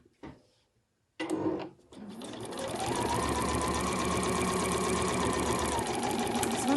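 A sewing machine stitching an overlocker cover starts up after a few soft handling clicks, then runs in a steady, close, rapid mechanical whirr that climbs slightly in speed and holds, with no talking.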